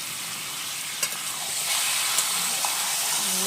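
Meat stirred and frying in a pan at home, a steady close sizzle with scraping stir strokes and a few sharp clicks from the utensil.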